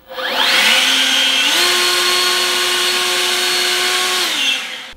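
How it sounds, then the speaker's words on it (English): An EGO 56V battery leaf blower spins up on turbo mode with a loud, steady high-pitched whine that jumps higher partway through, holds, then winds down, with no talking. "With that turbo, it's actually hard to hold the blower."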